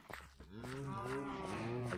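A cow mooing on a farm in a video game, one drawn-out, near, low moo with a slight rise and fall in pitch, heard alone.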